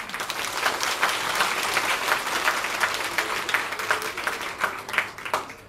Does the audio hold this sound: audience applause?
yes